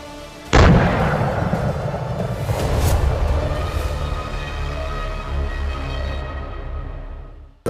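An ATAGS artillery gun with a 26.44-foot barrel fires a shell, producing one sudden, powerful boom followed by a long rolling rumble that fades over several seconds, with no speech.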